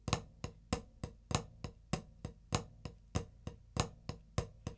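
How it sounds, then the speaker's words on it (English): Sharp drum strokes in a steady, repeating pattern of flams, each hit sounding thick and doubled like two sticks striking at once; no voices, played close and clear. "It might sound like both sticks are hitting at precisely the same time,"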